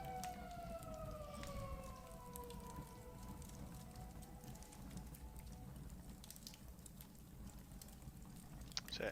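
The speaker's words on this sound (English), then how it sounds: "Is it an ambulance, I think, or a police car?" A distant ambulance or police car siren wails through steady background noise, its gliding tone falling slowly over several seconds and remaining faint throughout.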